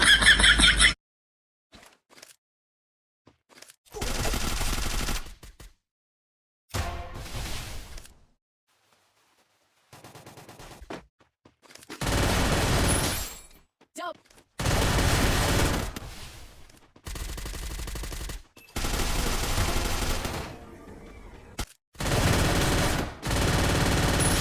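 Bursts of rapid automatic gunfire from the mobile shooter game Free Fire, several loud volleys of a few seconds each, separated by near silence and brief quieter shots.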